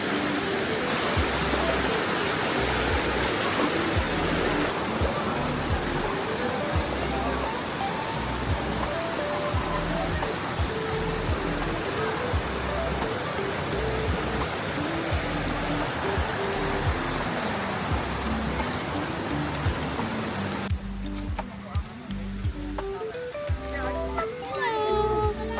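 A waterfall on Siquijor island pours with a dense, constant roar, while people chat and music plays over it before the rush drops away near the end.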